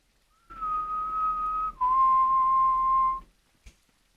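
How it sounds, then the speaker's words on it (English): Eerie whistling ambience in the survival video game The Gold River Project, set in Greater London: a long pure whistled tone holding steady, then sliding down to a lower sustained note, followed by a brief faint click. "This is the only place we hear this, the weird whistling."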